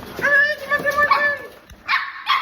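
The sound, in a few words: dogs barking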